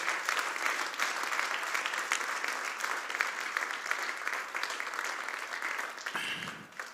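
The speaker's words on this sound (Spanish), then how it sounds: "dé ese aplauso al Señor" A church congregation claps at a Spanish-language sermon, sustained dense applause from many hands at moderate level, tapering off abruptly near the end.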